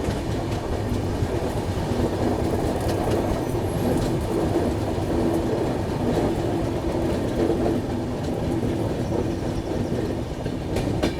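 Saurashtra Mail pulling into a railway station, a close, steady rumble of coaches and wheel clatter with faint squeals, no voices over it.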